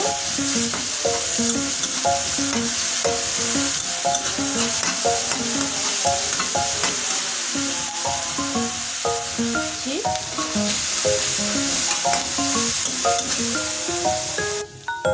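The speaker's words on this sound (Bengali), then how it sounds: "পেঁয়াজটা ভাজার জন্য।" Onions fry in white oil in a pan, a loud, constant sizzle with repeated rhythmic scraping and clinking of a spatula as they are stirred, close up for the whole stretch without talk.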